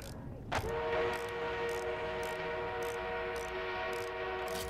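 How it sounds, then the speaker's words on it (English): An enemy armored train approaches in the video game Battlefield 1, its horn sounding a sustained steady blast over a rolling rumble, while a faint rhythmic clatter ticks beneath it. "enemy armored train is en route."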